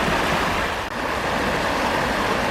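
River water rushes over a stone weir at an old forge and corn mill, a loud, steady broadband roar with no let-up, close and continuous.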